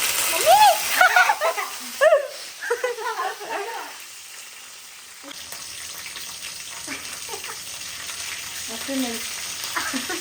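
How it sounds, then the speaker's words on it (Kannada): Cinnamon, peppercorns and cloves frying in ghee for donne biryani, a steady soft sizzle under someone talking through the first half, then continuing quietly with faint stirring. "ಫ್ರೈ ಮಾಡ್ಕೊಳ್ಳೋಕ್ಕೆ ಸ್ವಲ್ಪ ಚಕ್ಕೆ, ಮೆಣಸು ಆ್ಯಂಡ್ ಲವಂಗ ಹಾಕೋತಿದ್ದೀನಿ"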